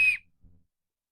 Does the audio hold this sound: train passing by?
no